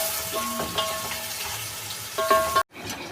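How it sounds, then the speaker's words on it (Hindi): Chopped onions sizzle and crackle steadily in a hot pan of oil, with a few scraping stirs of a spoon through the hiss, before the sound briefly cuts off. "अब प्याज को फ्राई करेंगे और प्याज हल्की लाल हो जानी चाहिए।"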